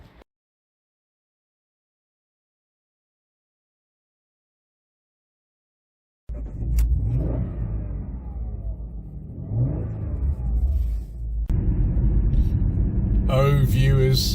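A 2003 Jaguar S-Type 3.0 V6 with a six-speed automatic pulls away and accelerates on a drive. The engine note rises after about six seconds of silence and builds steadily louder, close by.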